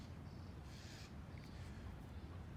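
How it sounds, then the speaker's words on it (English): A crow caws a few times at a distance, faint over steady outdoor background noise. "That's a crow."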